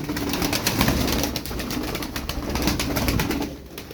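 Domestic pigeons, including crested (perçemli) birds, cooing in a loft, a steady, fairly close low cooing murmur with wing and movement noise throughout, no talking.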